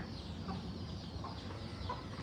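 Chickens pecking at mango cluck softly a few times, low and close, against steady outdoor background noise.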